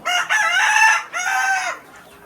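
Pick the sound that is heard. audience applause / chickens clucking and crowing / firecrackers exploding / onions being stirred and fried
chickens clucking and crowing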